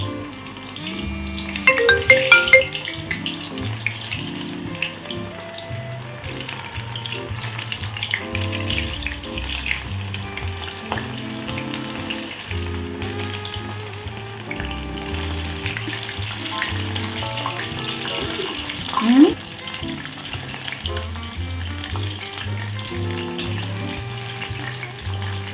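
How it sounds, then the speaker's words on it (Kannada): Jackfruit kebab pieces fry in hot oil with a steady, close sizzle and crackle throughout, punctuated by occasional clinks and stirring as the pieces are moved. "ಈಗ ಹಲಸಿನಕಾಯಿ ಕಬಾಬು ಎಣ್ಣೆಯಲ್ಲಿ ಚೆನ್ನಾಗಿ ಬೇಯ್ತಾ ಇದೆ."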